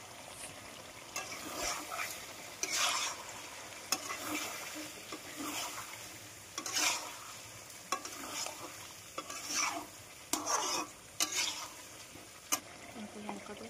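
Ginger, garlic and tomatoes fry and are stirred in a kadai, a steady soft sizzle broken by repeated scraping strokes of the spoon at irregular intervals, close by with no talk.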